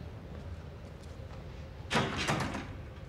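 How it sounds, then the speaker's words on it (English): A locked door rattles in the Outlast horror game, a short, close burst of clattering shakes after a quiet stretch, then fading. "Another locked door."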